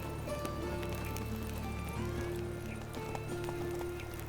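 Hooves of Roach, the horse in The Witcher 3, clop along steadily under game music and ambient tones, with a faint whinny-like edge in the mix.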